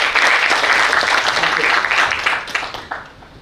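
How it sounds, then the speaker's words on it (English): Audience applause in a lecture hall at an awards-style science talk, a dense burst of clapping that stays full and steady, then thins and fades toward the end. "Please give a round of applause for Dr. Kesav Das."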